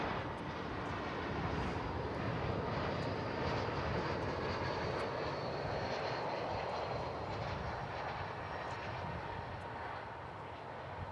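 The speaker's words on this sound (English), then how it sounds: "Arriving now from Los Cabos in Mexico is American flight, looks to be 1304, an Airbus A321" American Airlines Airbus A321 arriving at DFW airport, its engines a continuous broadband roar held at steady loudness throughout, heard from a distance with no talking.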